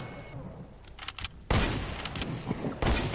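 Bursts of gunfire from a player's gun in a Fortnite battle royale match ring out close and loud, with scattered sharp shots early, then a sustained volley and another burst near the end.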